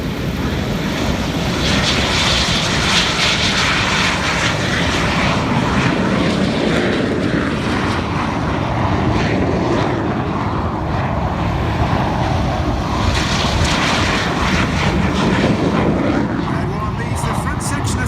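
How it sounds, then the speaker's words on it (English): Red Arrows jets take off in a rolling display departure with a sustained loud engine roar and wind buffeting throughout, the intensity swelling and easing as the aircraft pass. "Reds 4 and 5 running a slightly higher power setting for takeoff are airborne first."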